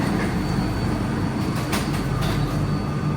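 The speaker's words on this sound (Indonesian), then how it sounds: "Kita naik Skytrain." Skytrain people mover at Singapore Changi Airport running steadily, a continuous loud rumble of wheels and rail with a brief brighter whoosh midway and no talk over it.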